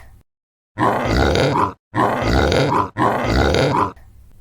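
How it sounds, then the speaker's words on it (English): Three loud, rough grunting bursts in a row, each about a second long with short gaps between, close and harsh like a pig. "Pig."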